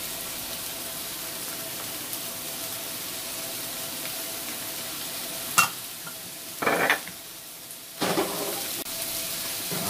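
Tofu frying in a pan over fairly high heat with ginger oil gives a steady sizzle throughout, broken by a few brief utensil clatters and scrapes near the end.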